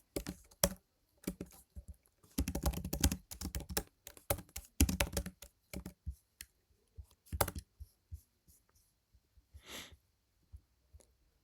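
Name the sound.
typing Java code on a computer keyboard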